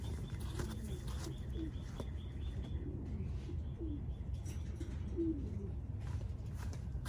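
Racing pigeons cooing at a loft, soft repeated coos and occasional chirps over a steady low background hum, moderately distant and without speech.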